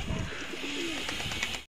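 Pigeons nesting on eggs and chicks coo softly among other bird calls, a steady close murmur with low throaty warbles over background noise and no talk.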